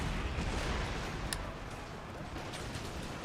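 Massed musket-style gunfire in a video game battle involving a Swedish army: a dense, continuous crackling roar of many distant shots, with one sharper report standing out briefly.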